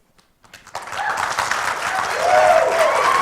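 Applause from an audience starts abruptly after a brief quiet moment and continues steadily, a dense wash of many hands clapping that swells slightly toward the end.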